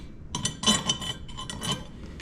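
Small metal washer clinking against a bolt and metal bracket while aluminum crash bars are fitted to a Yamaha Ténéré 700, a few light, close chinks and taps.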